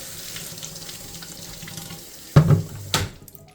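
Water runs steadily from a tap into a sink bucket, then a couple of louder splashes and gushes near the end as it fills and pours.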